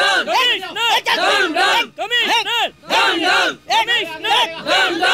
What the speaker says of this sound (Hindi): सर बाहर भीड़ बढ़ती जा रही है